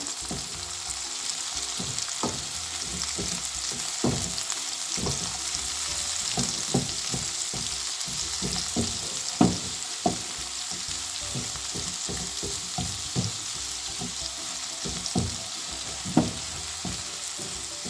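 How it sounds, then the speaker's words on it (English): Pasta with leeks, pancetta and peas sizzles in a single pan while being stirred, a steady frying hiss punctuated by regular scraping strokes of the utensil. "Give it a stir"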